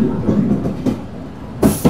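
Local train rolling along the rail line toward Chapai Nawabganj, a close, loud rumbling clatter with rhythmic bumps and a sharp knock near the end.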